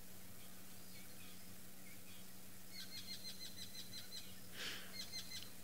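Birds in the African bush call faintly in the distance over a low, steady hum, with a rapid series of repeated high chirping notes entering midway and continuing to the end.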